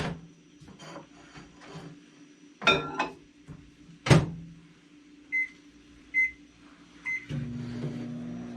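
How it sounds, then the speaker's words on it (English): A microwave oven warming milk runs with a steady low hum, interrupted by door clunks and handling knocks, then three short evenly spaced beeps mark the end of the cycle before the hum resumes. "So I will put that in the microwave and warm it."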